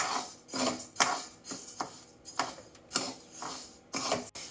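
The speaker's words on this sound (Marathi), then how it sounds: "आता ही उडदाची डाळ भाजायला घेऊया." Urad dal being dry-roasted and stirred in a pan, with repeated scraping and clinking of a metal spoon against the pan in an irregular rhythm, close and fairly loud, with no talking.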